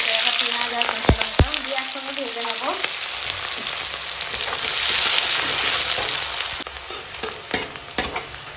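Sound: onions and chilies frying in oil

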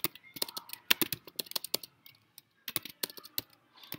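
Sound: typing on a computer keyboard

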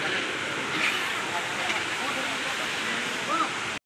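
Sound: large waterfall

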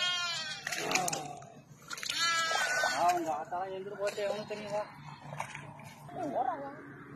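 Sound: goats bleating

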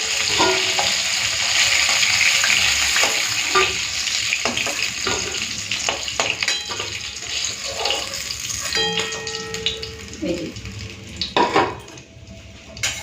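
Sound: frying rohu fish head in a pan

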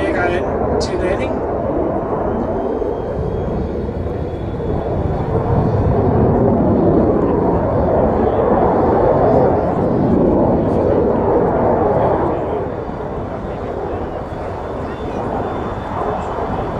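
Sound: JAS 39 Gripen fighter jet coming in to land

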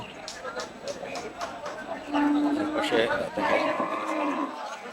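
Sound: cattle at a livestock market

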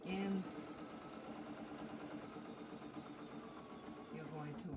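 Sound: sewing machine stitching a denim and flannel quilt

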